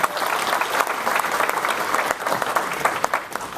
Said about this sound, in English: give them a big round of applause once again